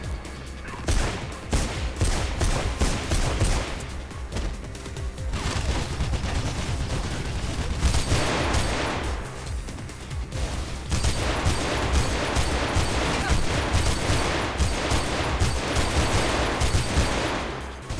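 Gunfire from a gun picked up in the video game Mirror's Edge, loud dense bursts of rapid shots running through most of the stretch, with brief lulls between volleys and no talk over it.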